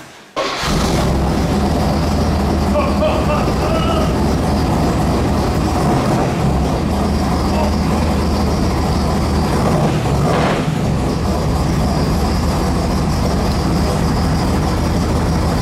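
An original DZ302 Z28 engine runs at a loud, steady idle for the whole stretch after a brief start at the beginning, with a deep rumble and no clear speech.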